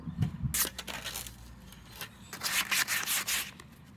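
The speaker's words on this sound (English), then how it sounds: "I think I'm almost done with the sanding" Rhythmic rasping strokes of sandpaper rubbing over cedar wood, in two bursts of quick back-and-forth scrubbing, close and fairly loud.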